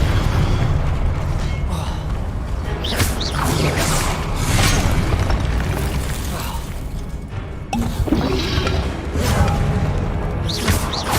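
Confringo blasting spell explosions during combat in Hogwarts Legacy, loud booming bursts over a dense, continuous layer of game noise and crashes, with several sharp blasts standing out.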